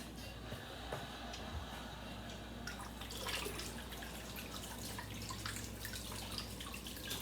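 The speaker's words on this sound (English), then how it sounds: "I'm going to rinse my hands off." Tap water runs into a sink while hands are rinsed, a faint, steady splashing close by that grows a little busier midway.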